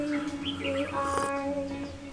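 Ducks, chickens, geese and other birds call in an open outdoor setting. Overlapping chirps and tweets run alongside a steady tonal hum, all at moderate distance with no speech.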